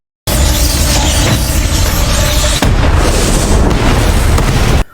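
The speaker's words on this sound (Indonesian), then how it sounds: "ledakan terjadi di rumah itu yang membuat kondisi rumah terbakar hebat" A house explodes in a horror film, with a loud, sustained blast and roaring rumble that fills nearly five seconds and briefly dips partway through before cutting off.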